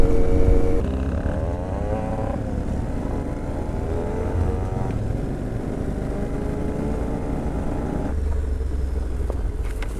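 Steady motorcycle engine drone while riding a trail past ferns, loud and continuous with rising and falling pitch as the throttle changes, no voices over it.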